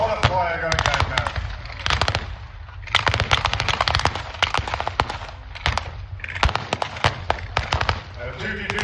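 Gunfire rattles through a WWII battle re-enactment at Tankfest, with rapid bursts and single cracks from several weapons at mid-distance. A commentator talks over the shooting throughout.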